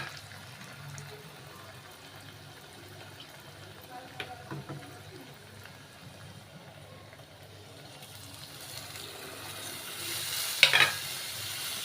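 Chopped onion and spices frying in hot oil in a pan, a faint, steady sizzle with soft stirring scrapes and a brief louder clatter near the end, with a muffled voice in the background.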